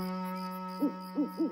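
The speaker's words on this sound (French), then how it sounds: "Ce n'est qu'un hibou qui s'installe dans les arbres la nuit" An owl settling in the trees at night gives several soft, rounded hoots in quick succession over a steady droning background tone.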